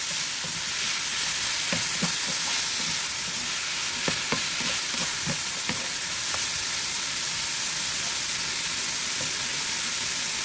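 Pork browns in a pan under a constant loud sizzle, with a scattering of sharp clinks and scrapes from stir-frying in the first half, then an even hiss.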